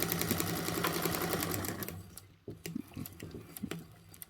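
A sewing machine runs a seam on a Travelnizer bag with a small stitch length, a fast continuous needle chatter up close that stops briefly, then restarts in short uneven bursts of stitching.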